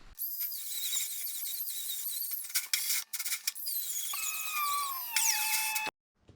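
Steel plate being cut along painted lines for a headache rack on an OBS Ford F250 custom flat deck, giving a loud, close, sustained metallic screech whose pitch wavers and drops before stopping abruptly.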